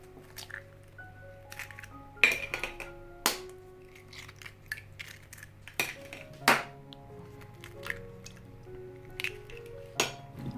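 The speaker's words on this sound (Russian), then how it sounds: "В отдельную миску разбиваем 3 яйца" Three eggs cracked into a separate bowl for a rhubarb meringue pie: sharp clinks of shells against the bowl rim, wet squishy drops and scattered dish taps, close and fairly quiet, with no talking.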